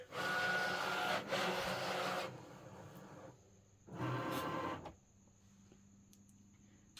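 A vinyl cutting machine loads material with a loud mechanical whirring run of about two seconds, followed after a pause by a second shorter burst as it starts, close by with quiet room tone between.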